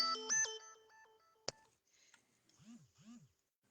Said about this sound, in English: I had a phone call coming in.